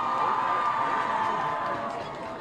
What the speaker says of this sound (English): Come on, you can give her a nicer round of applause than that